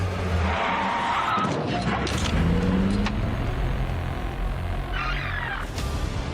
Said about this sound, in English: the driver of the pickup applies the brakes. And the driver with the dash cam can't stop in time